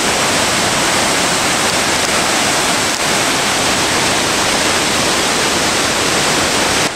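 Bermejo Waterfalls in Panama roar in a loud, steady, unbroken rush of falling water that fills the whole seven seconds with dense, even noise.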